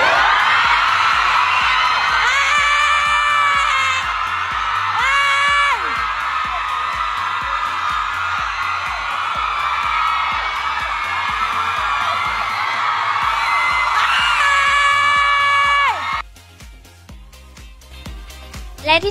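Fans at an anniversary celebration screaming and cheering in a dense, loud, sustained roar with high-pitched shrieks and whoops, fading toward the end.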